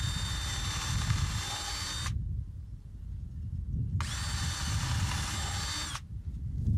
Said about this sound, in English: One is to drill the hole for the screw, and one is to make a small countersink.